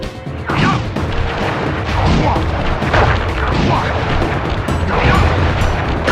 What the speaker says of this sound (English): I will send you to your doom with the beauty of my new firework technique, Flame Foo